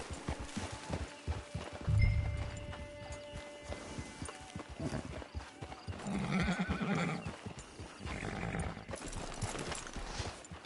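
Horse hooves clip-clop at a steady walking pace in Red Dead Redemption 2 Online, with a whinny once partway through, against a quiet outdoor ambience.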